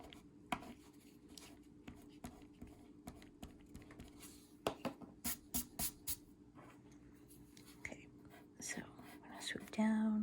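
A faint, close sequence of short rubbing strokes as an eraser clears pencil lines from a hand drawing of plants in a window, with quiet murmured speech in the background.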